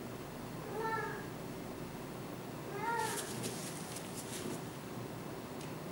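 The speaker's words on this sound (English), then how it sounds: "I don't know if you can hear her back there, but she's meowing." A cat meows twice in the distance, in short rising-falling cries a couple of seconds apart, faint over a low room hiss with some light clatter after.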